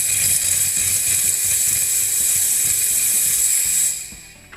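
An espresso coffee machine pumps descaling liquid through its system, a loud steady hissing hum with a rattling mechanical buzz underneath, cutting off near the end.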